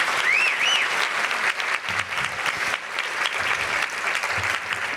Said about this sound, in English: Let's give all the Courics, Wadlows, and Bellers a round of applause